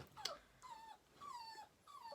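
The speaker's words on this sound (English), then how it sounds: "You can hear my dog whining in the background." A dog whines in the background of a room, three or four drawn-out, falling whimpers in a row, faint and somewhat distant, with no talking over them.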